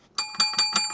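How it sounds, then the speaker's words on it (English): A small hand bell rings five times in quick succession, bright and close, each strike ringing briefly before the next. "grabbing the bell"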